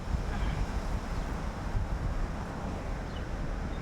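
Steady wind rushing and buffeting the microphone outdoors on a hot day by a wetland embankment, a continuous broadband roar with no pauses and no voices.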